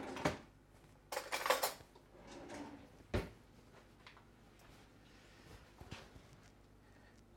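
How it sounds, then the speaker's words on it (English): Spoon pulled from a cutlery drawer while baking carrot cake: a few sharp metallic clinks and rattles of silverware up close, with a brief louder jangle, then quieter kitchen handling. "Let's get a spoon"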